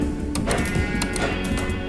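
A sheep bleats in the video game Minecraft, a few short, clear bleats over a steady game background with no talk.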